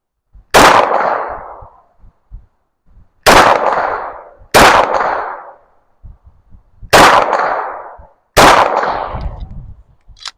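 Five loud, close pistol shots from a Glock 34, each a sharp crack with a decaying ring, spaced unevenly about one to two seconds apart.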